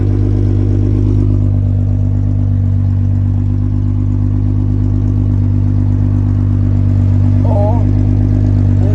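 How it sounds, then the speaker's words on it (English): A VR6 engine swapped into a car runs with a steady, loud exhaust drone and deep rumble that holds for the whole stretch, with little change in pitch and faint sounds in the background. "This is the way the VR6 exhaust is when the car is bought from factory."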